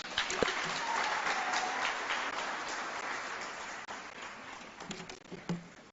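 An audience at a UN Habitat Assembly roundtable applauds after a speech, a sustained wash of clapping from a large crowd, steady and fairly distant, tapering slightly near the end.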